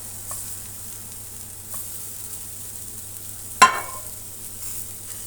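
Meatballs searing in a hot pan with no oil, a faint steady sizzle with one sharp clatter midway.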